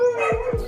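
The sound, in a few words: neighbour's dog barking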